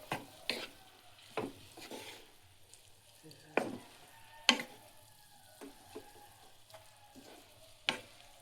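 Food sizzles softly in a pan while a utensil scrapes and knocks against it during stirring, with repeated sharp clacks spaced irregularly over a low frying hiss at breakfast cooking.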